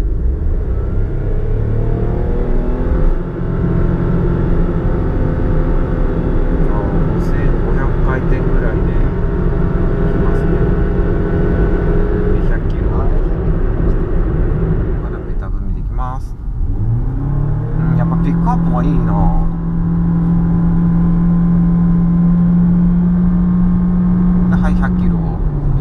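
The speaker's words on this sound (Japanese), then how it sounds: "100キロに加速していきますけど" A Nissan car accelerates hard onto an expressway toward 100 km/h, its loud engine droning and climbing in pitch, dipping at a shift, then settling into a high steady whine, with someone talking over it.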